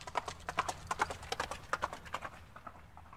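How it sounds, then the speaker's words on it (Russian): A horse gallops across a field, its hooves beating a quick, even clip-clop rhythm of sharp, close thuds that carry on steadily before easing slightly toward the end. "Вскочил на коня, посадил сзади Ставра и поскакал в поле"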